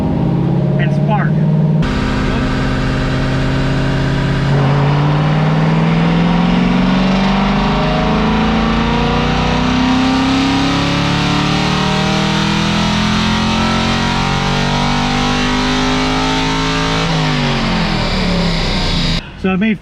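Nitrous-built car on a dyno doing a naturally aspirated pull, its engine revving loudly and steadily climbing in pitch for about fifteen seconds before dropping off, close and sustained.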